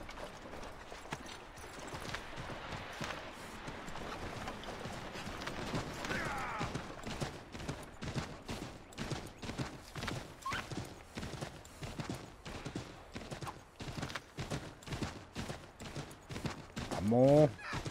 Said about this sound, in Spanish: Si hace que tu caballo corra, se agotará.